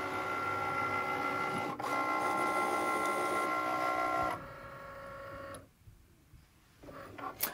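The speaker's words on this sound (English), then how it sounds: "cut them out with the vinyl cutter on the Cricut" A Cricut vinyl cutter whirs and buzzes mechanically as it cuts graphics, with motor tones shifting between passes, then quiets to softer movements near the end, with no voices.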